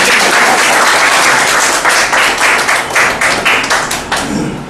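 A crowd applauding steadily, the clapping dense at first and thinning toward the end, with no voices.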